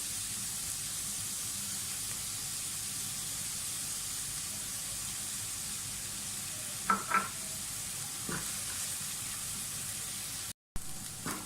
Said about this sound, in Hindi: प्याज हमारी हो गई है फ्राई